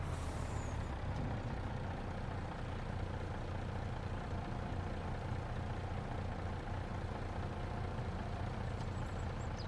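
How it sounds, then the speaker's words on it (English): A truck in Farming Simulator unloads its load into a hopper, a dense continuous low rumble of engine and pouring material holding steady throughout, close and fairly loud with no voices. "Dump the rest of what's in the truck"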